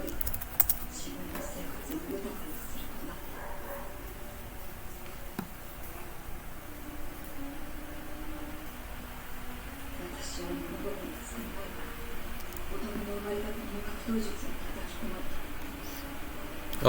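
Fingers tap on a computer keyboard in quick, light bursts of clicks over a faint room hum, with some scattered mouse clicks.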